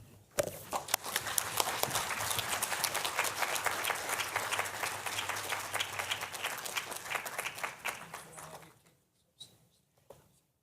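Sustained audience applause at an international exchange and tourism seminar welcoming a keynote speaker, a dense wash of many hands clapping for about eight seconds before tapering off into near silence with a few stray claps.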